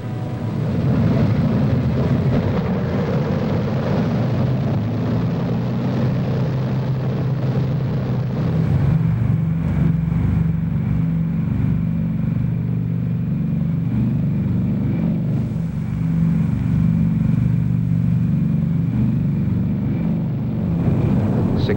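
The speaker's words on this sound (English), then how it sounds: "The men are ready for the takeoff." Heavy bomber engines roar continuously at takeoff, probably B-17 or superfortress aircraft, with a dense, loud, droning rumble and a slight change in pitch partway through.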